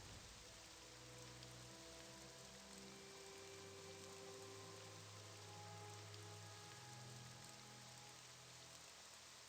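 Steady rain falls in the video game Morrowind, a dense, even hiss of drops on surfaces that holds constant throughout, with no voices over it.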